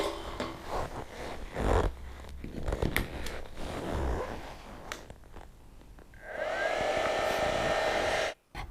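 A drill welder's steady, airy whir hums like a hair dryer, with clunks and handling noises before it, then a continuous motor drone that cuts off abruptly.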